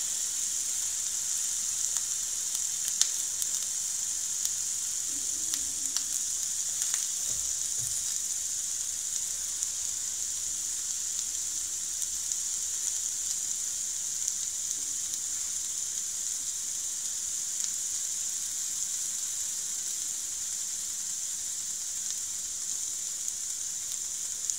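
Vegan veggie burgers fry in a pan with a steady, close sizzle and hiss that runs on at an even level, broken by a few faint clinks and shifts, with no one speaking.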